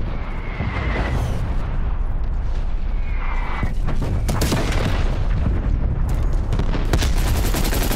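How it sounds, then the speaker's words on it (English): An artillery strike in the Call of Duty: Black Ops Cold War video game sets off a rapid series of loud, overlapping booms and blasts that keep a dense, roaring barrage going throughout. "Artillery inbound."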